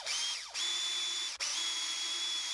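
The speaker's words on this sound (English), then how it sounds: "Marking the holes, or I have to drill the pilot holes" Power drill boring pilot holes into a hard maple spinnerbait lure body clamped in a drill press vise, a steady close high-pitched whine that dips briefly twice as the bit bites, with no voices.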